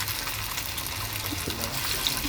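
Potato pakoras fry in hot oil with a steady, even hiss that continues unbroken throughout, with no distinct splashes or drops standing out.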